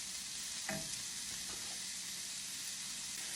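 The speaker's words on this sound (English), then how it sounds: "we're going to fry up this sausage" Loose sausage meat, removed from its casings, frying in a pan makes a soft, even sizzle and hiss. A brief clatter of stirring sounds near the start, and the whole sound stays fairly quiet and steady.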